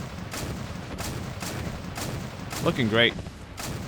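A 30mm L21A1 Rarden cannon fires in the video game Men of War: Assault Squad 2, its shots coming as regular booming reports about half a second apart over battle noise, with someone briefly talking partway through.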